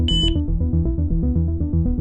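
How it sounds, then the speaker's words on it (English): A single short high electronic beep from an STI-3360 alarm receiver at the start, over a steady repeating low musical loop that fills the rest. "press and hold the sensor button for 5 seconds, or until the receiver beeps"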